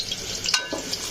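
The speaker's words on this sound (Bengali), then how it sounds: "4টা বড় বড় পেঁয়াজ কুচি দিয়েছি। আমি এটা একটু ভেজে নেব।" Chopped onions frying in oil in a pan, for a chicken roast, make a faint, brief crackling sizzle with a couple of small pops.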